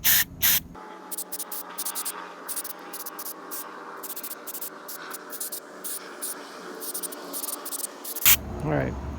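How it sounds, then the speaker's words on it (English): Bursts of aerosol cleaner hiss onto wires at a fuel leak near a Corolla tank: a long steady spray over several seconds, framed by shorter blasts at the start and end, close up, with a voice briefly heard. "spray a little more"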